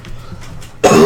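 A man lets out a single loud, harsh cough near the close after a brief stretch of near quiet, with no talk over it.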